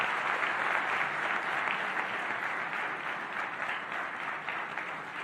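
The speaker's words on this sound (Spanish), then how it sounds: "le damos la palabra y también un fuerte aplauso para el presidente Gabriel Boric Font." An audience at an international investment forum in Chile applauds for the president, a continuous, even wash of clapping from a large crowd, moderately loud and unbroken throughout.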